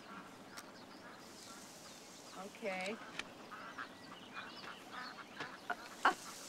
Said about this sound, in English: You see the ducks?